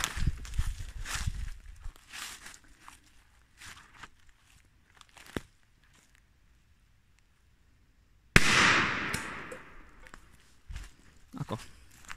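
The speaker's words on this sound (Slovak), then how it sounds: "dáme tie 3 petardy pod panvicu, ktorú tu máme, a začíname Pirate Bombom" A Pirate Bomb firecracker goes off under a frying pan: one sudden loud bang with a crashing burst that decays over several seconds. Muffled handling and footsteps come before it, and stray rattles follow.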